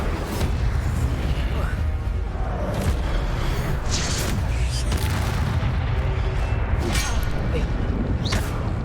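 Incendio fire spell cast in Hogwarts Legacy on hard mode, a loud continuous roar of whooshing blasts and booms, packed tightly with combat noise throughout.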